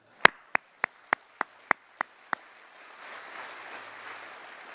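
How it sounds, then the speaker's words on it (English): An audience at the CANSEC defence industry show in Canada applauds during a minister's address, starting with eight sharp, evenly spaced claps and then growing into a softer, sustained wash of clapping. "We can applaud on that because that's a big thing."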